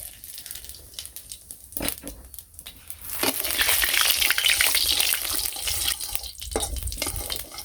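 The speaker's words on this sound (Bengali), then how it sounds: "তো মাছগুলো ধুয়ে নিয়ে এলাম ভালো করে, এখন ভেজে লই। কড়াইতে তেলও দিয়ে দিছি, তেলটা প্রচুর গরম হয়ে গেছে।" Fish hit very hot oil in a wok, and a loud, spreading sizzle with crackling rises and keeps going, preceded by a few quieter clanks and splashes.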